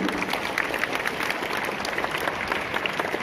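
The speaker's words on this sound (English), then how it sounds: "Have a great round of applause for Mithun." A group of students at St. Xavier's, during an NGO awareness session, gives a round of applause, a dense patter of many hands clapping at an even level throughout.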